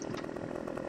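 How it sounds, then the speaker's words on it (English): Chainsaw cutting down trees in the Farming Simulator 2015 video game, a steady buzzing engine drone held at a constant level for under a second with no talk. "chainsaw, so we're just here cutting down some trees"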